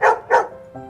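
A dog gives two sharp, loud barks close by in quick succession, followed by a brief softer whine.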